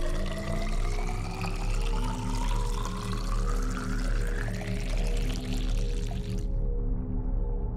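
Water being drunk in the underwater survival game Subnautica: a loud, continuous gulping, pouring rush fills most of the clip and then cuts off abruptly, with no talk over it.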